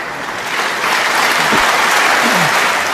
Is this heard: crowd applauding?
yes